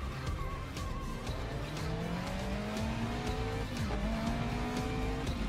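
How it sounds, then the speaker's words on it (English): Engine drone with rising pitch sweeps while race car tires squeal and skid through a slide in the video game Grid Legends, loud and continuous, with sharp clicks ticking throughout. "Tires are squeezing"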